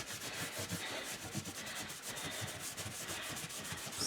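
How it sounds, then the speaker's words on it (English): Soft, steady rubbing of an old flannel cloth working wax into an ornate wooden frame, close and quiet, in a continuous back-and-forth rhythm without talk. "I've waxed it all up, so I'm just going to go over with this cloth"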